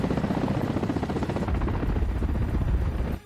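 A Russian Ka-52 military helicopter taking off, a loud, dense rotor thrum with rapid rhythmic chopping that stays close and steady, then cuts off at the end.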